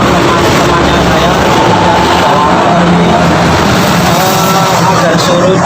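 A Honda Grand motorcycle engine runs with a rough, harsh internal noise, a loud continuous mechanical drone close by that holds steady with no talking.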